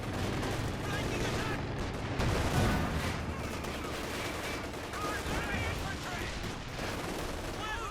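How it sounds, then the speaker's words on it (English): Bursts of MG-34 machine gun fire in a Company of Heroes 2 match, dense rapid crackling under an ongoing battle din, with a louder swell midway, while a voice talks throughout. "Captain there being gunned down with the MG-34"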